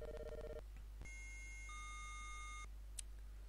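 Telephone line tones in the Commodore 64 game Impossible Mission: a quick run of rapid dial-like beeps, then a sustained multi-tone electronic hum lasting over a second, ending with a brief click, over a steady low background hum.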